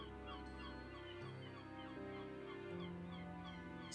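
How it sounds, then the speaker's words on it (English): Cartoonish seagull squawks from the Mario & Luigi: Paper Jam video game, honking calls layered over steady, tuneful game music. "Seagulls, are you quite finished?"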